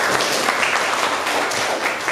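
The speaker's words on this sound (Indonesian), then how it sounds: "tepuk tangan untuk kalian semua." Students in an Indonesian-language classroom lesson break into loud, dense clapping close by, a continuous rush of hand claps lasting a couple of seconds.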